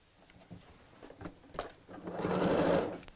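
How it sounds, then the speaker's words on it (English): A sewing machine stitches along the long edge of fabric folded in half, right sides together, to form a long tube; the whirring run builds in the second half, preceded by a few light handling taps. "I'm still going to sew right sides together to make a long tube"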